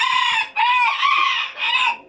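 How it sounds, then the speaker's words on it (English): Small Serama roosters crow inside a barn, three close, loud calls in quick succession with brief pauses between them. "who's making all the noise are these three little Sarama roosters"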